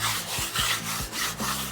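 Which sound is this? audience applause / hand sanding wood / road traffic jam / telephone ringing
hand sanding wood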